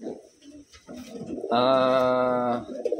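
A Wantai pigeon hen with purple eyes and a medium-to-large body gives one clear, sustained, close coo lasting about a second, framed by quieter soft rustles and faint murmurs before and after.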